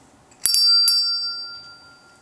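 Chimes are struck at a Veterans Day ceremony: one bright, metallic strike followed by a second shortly after, ringing clearly and sustaining as a long decaying tone in a quiet space.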